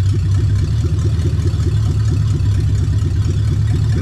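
A Toyota 3UZ-FE V8 idling, heard as a steady loud low engine burble with an even throbbing pulse, close by and uninterrupted.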